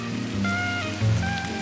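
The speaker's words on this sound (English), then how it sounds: "It's raining. It's cold." Rain falls steadily on surfaces around a warehouse at the Boston docks at night, a close, continuous wash mixed with sustained tonal hums.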